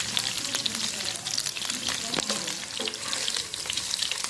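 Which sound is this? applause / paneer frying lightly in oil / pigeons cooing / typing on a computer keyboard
paneer frying lightly in oil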